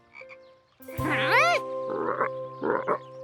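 Cartoon frogs croaking in a Curious George animal episode: one loud, swooping croak followed by two shorter raspy croaks, over sustained musical tones.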